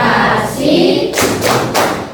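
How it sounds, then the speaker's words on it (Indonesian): A classroom of pupils claps out the rhythmic 'tepuk konsentrasi' concentration clap, a few loud, sharp group claps in a short pattern with some voices mixed in. "Tepuk konsentrasi."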